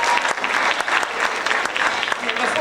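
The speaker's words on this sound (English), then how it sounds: "Give our soloist another round of applause, please." Enthusiastic applause for a jazz soloist at a high school concert, dense and loud clapping from a nearby audience, continuing for a couple of seconds with some voices mixed in.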